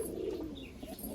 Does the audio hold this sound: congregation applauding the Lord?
no